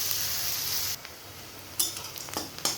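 Onions sizzle as they fry in oil in a pan. A steady hiss fades after the first second, then gives way to a quieter sizzle broken by a few sharp clinks of a utensil against the pan.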